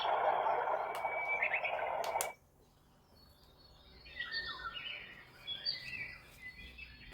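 Small birds chirp and twitter from a bedside sleep sound box, a soft, scattered natural-ambience loop that follows a louder burst of broadband noise in the first couple of seconds.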